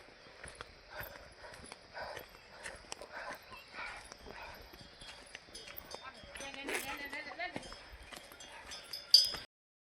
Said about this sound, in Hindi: देखो भाई किसी के खच्चर शायद गधेरे जा रहे बजरी लेने।